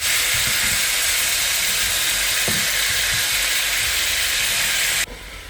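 Hog plums dropped into hot oil spiced with mustard and fenugreek seeds, a loud steady broadband sizzle with faint clinks of stirring, cut off abruptly near the end.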